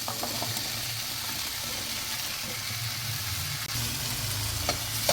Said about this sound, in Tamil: இதோட கட் பண்ணி வச்ச முருங்கைக்காயும் ஆட் பண்ணிக்கலாம்.